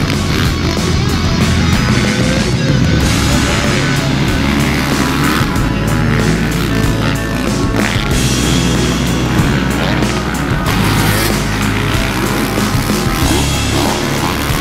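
Motocross bikes lapping Paula Raceway on a clear day, a loud continuous engine roar with rising and falling revs as riders pass, several machines overlapping.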